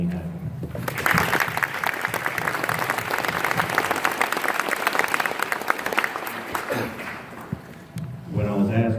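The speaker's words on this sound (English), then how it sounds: "Let's have a round of applause for the faculty for making this induction ceremony happen." Applause for the faculty at a middle school honor club induction ceremony, a crowd clapping steadily for several seconds in a hall before it dies down and a voice begins speaking.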